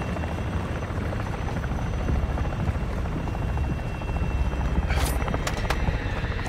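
Bomb drone flying in the video game Call of Duty DMZ, a steady whirring rotor drone that stays loud and constant throughout, with a few sharp high clicks near the end.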